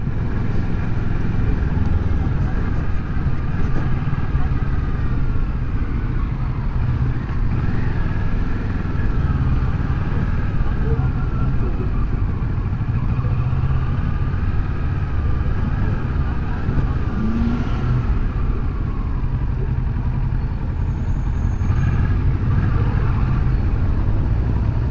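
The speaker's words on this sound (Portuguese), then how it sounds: "Eu ainda estou me acostumando com a faixa de torque da moto." A 2018 Kawasaki Versys 650 ABS Tourer rides through local town traffic, its engine note steady and close beneath a broad rush of wind and road noise, with passing vehicles faintly mixed in.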